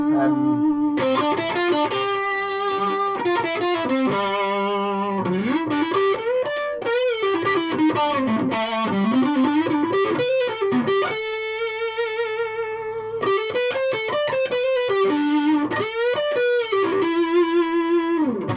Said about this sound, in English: Got a bit more distortion on.